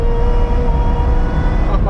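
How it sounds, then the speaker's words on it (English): A supercharged supercar engine drones loud and close from inside the car, with a steady whine over a low rumble, and people talk over it. "Yeah, you can really hear the supercharger"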